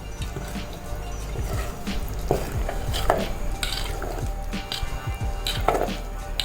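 Thick plum cake batter being stirred with milk in a bowl to work out lumps, giving a steady run of close, wet scraping and squishing strokes with a few sharper clinks against the container, and no talk.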